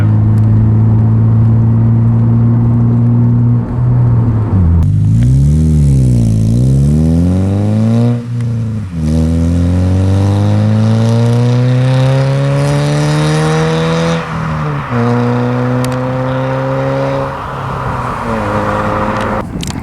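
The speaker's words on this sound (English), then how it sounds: "It's definitely enough that you can tell that it's got a modified exhaust" Subaru Impreza with an EJ25 engine and a Magnaflow exhaust revs repeatedly and loudly up close, its note climbing and falling through several sustained throttle sweeps with no talk.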